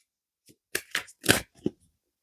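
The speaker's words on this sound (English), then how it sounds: "Give it a wee shuffle." A few quick riffling bursts of cards being shuffled, close and crisp, with brief pauses between them.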